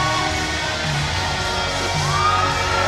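Wrestling crowd at a World Series Wrestling show in Sydney cheers and whoops for Janela, a steady dense roar of many voices with scattered yells throughout.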